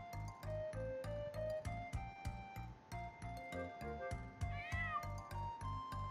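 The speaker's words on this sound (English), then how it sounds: "A black cat? What?" A black cat meows in a video game, a clear, close mewing cry rising over a steady pulsing game music beat that thumps throughout, with no talking.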